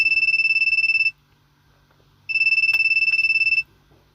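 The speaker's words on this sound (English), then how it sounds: "The phone is ringing for quite a while" A telephone rings in two long electronic trilling bursts separated by a gap of about a second, near and loud, with a faint click during the second ring.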